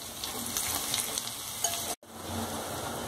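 Onion tossed into hot oil already holding turmeric, coriander leaves and leftover spice mix, for a stuffed brinjal dish, sizzles loudly and steadily, dropping out for an instant midway before the frying hiss returns.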